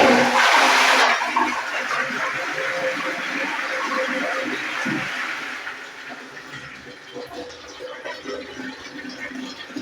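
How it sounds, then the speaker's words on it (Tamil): An old Indian-style water closet toilet flushes with a loud initial rush of water that settles into a steady falling, trickling flow as the tank empties and refills. "ஃப்ளஷ் பண்ணுறேன்."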